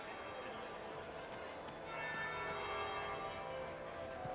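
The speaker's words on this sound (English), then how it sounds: "That would be the second bell." A bell tolls in a fantasy video game during a masked court gathering, its sustained ringing tones swelling partway through over a steady murmur of crowd chatter.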